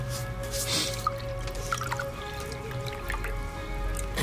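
Wine is poured into a glass indoors, a short liquid glug and trickle over a low room hum, with a few small clinks and drips.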